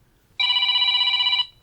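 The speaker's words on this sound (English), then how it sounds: "start ringing the phone" A smartphone rings loudly and close by for about a second, set off by a remote play-sound feature to help locate it. The ring is a steady electronic tone with no talk over it.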